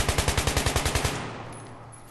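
Rifle fire from Battlefield 3, a fast automatic burst of about a dozen sharp evenly spaced shots, loud and close, then stopping with a fading echo.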